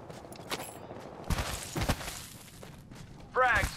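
Gunfire in the battle royale video game Apex Legends comes as scattered sharp bursts and cracks with a louder burst near the end, mixed with game effects and voices.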